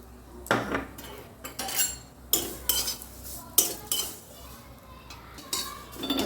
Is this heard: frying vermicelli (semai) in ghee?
yes